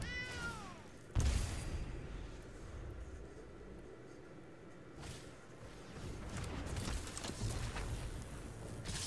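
A cat meows once at the start as a card sound effect in the Magic the Gathering Arena video game. Rushing whooshes and booming impacts from the game follow it.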